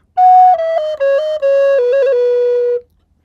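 A single melody instrument plays a short phrase of about eight clean, sustained notes that step downward and settle on a final C to complete a perfect cadence, heard alone and clear for under three seconds.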